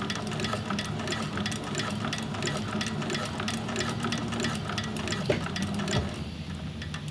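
A Techsew 4800 Pro sewing machine stitches through leather, running continuously with a fast, even mechanical clatter close by and no speech.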